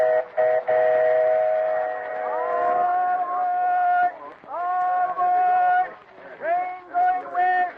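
A steam train whistle blows in long sustained chords, stopping and restarting several times, as a radio drama departure effect; loud and close with a voice carrying over it.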